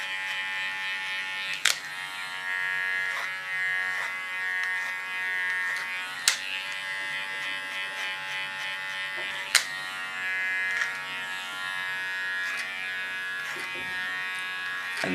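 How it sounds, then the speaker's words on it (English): Electric hair clipper buzzes steadily while cutting hair over a clipper comb, a close, continuous whine with a few sharp clicks and brief bumps along the way. "Use it as a clipper comb at this moment."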